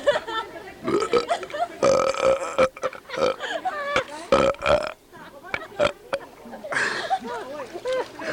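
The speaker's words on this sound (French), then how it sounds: "Fais un rot avant." At a 1989 family party, a series of loud, gurgling burps comes up close to the microphone, several in a row with short pauses between them.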